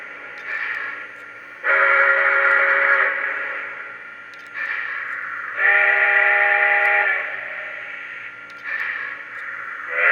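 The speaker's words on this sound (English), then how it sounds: "I like that deep mountain whistle the best." A model train steam whistle effect on a Lionel Great Northern 1385 Pacific sounds in repeated blasts, some short and some long and deep, each with a breathy hiss; clear and alone without any voices.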